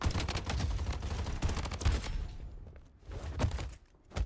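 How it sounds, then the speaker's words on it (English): Rapid gunfire from a video game shooter, dense bursts of shots packed together through the first half, then a brief lull and a few more isolated volleys, loud and close with no talking. "I feel like I get shot and then they stop. firing at me."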